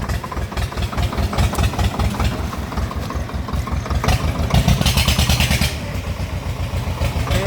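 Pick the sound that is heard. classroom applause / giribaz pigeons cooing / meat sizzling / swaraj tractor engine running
swaraj tractor engine running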